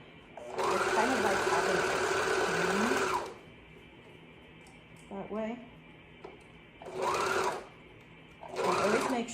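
Sewing machine stitching fabric baby bummies, running in a long steady whirring burst and then two shorter runs, close and loud, with someone talking quietly between the stitching passes.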